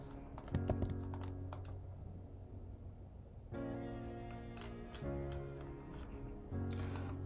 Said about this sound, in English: Let's type the word share.